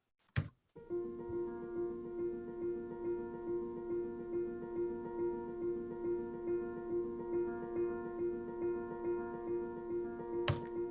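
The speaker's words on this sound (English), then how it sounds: "And then we have a piano triplet ostinato figure, which sounds a little bit like this." Soft piano figure repeating a steady triplet ostinato, even pulsing notes sustained in a continuous loop with no voices, from a live performance of the Atonement score.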